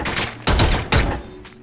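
Gunfire from a Combine soldier hitting a riot shield in Garry's Mod, two or three heavy close shot bursts in quick succession.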